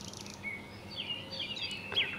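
Several birds chirp and sing among trees in a short, steady burst of bright, high calls over a soft background hush, with no voices present.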